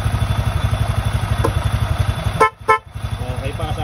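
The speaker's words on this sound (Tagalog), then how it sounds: "Testing din natin yung bumusina" Two short honks from a motorcycle horn sound over a steady, rhythmic idling engine close by.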